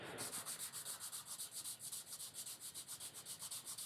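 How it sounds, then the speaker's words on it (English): Hardwood furniture parts for a sideboard are sanded and planed by hand. Steady, evenly spaced rubbing strokes repeat close up at about eight per second, with no talking. "I'm sanding and planing everything down here"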